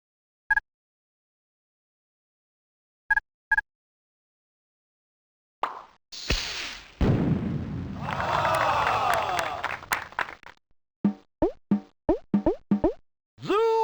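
A fraction firework in the 1996 educational video game Mighty Math Number Heroes goes off as a whooshing burst with crackling sparkle, then a string of short plopping pops, after a few isolated blips in silence.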